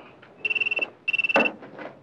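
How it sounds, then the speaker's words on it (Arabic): A telephone rings in two bursts of rapid electronic trills, close and fairly loud, with a short pause between them and some faint background noise after. "بعد اذنك ارد على التليفون."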